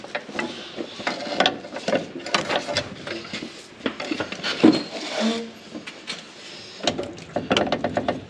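Mechanical clicks, clunks and ratcheting from a car jack being raised under an oil pan in an outdoor setting, irregular and fairly close, with no talk.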